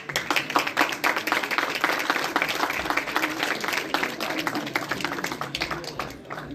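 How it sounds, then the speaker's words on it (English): Applause from a seminar audience welcoming dignitaries at a Union Budget 2021 event, dense steady clapping sustained for several seconds at a moderate distance, with a faint voice mixed in. "Please welcome our dignitaries with a huge round of applause"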